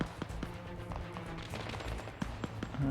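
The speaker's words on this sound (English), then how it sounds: "There's a bit more gunfire." Rapid bursts of gunfire in ArmA 3 crackle continuously in the distance, a steady rattle of shots with a few sharper cracks.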